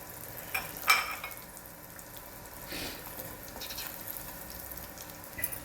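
Asafoetida and turmeric powder dropped into hot oil for a chilli mirchu, giving a soft, steady frying hiss with a brief louder clatter near the start and a faint swell midway, no voices.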